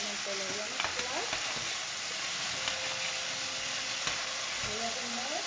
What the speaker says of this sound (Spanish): Como ya está listo el tomate, simplemente lo voy a mezclar.